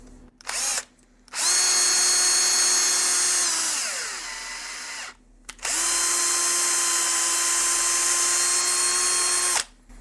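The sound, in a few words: drill running a tap into PEEK plastic at 1000 RPM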